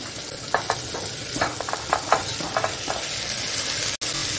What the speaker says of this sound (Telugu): ఇప్పుడు మనం బర్బటీ వేసేద్దాం